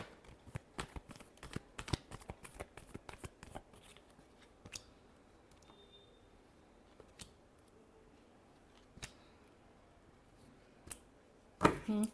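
Tarot cards are shuffled in quick runs of crisp, sharp riffling clicks early on, then sparse taps and quiet handling, with a louder burst of shuffling at the end.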